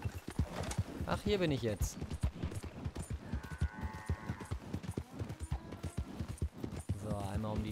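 Rapid, steady hoofbeats of a horse being ridden around a farm in Red Dead Redemption 2, clopping close and continuously throughout while someone talks over them.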